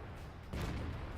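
A T-34-1 tank gun fires once in World of Tanks, a single deep, heavy boom that suddenly breaks a quiet background and then rumbles on faintly.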